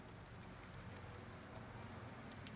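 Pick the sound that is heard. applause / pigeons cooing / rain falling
rain falling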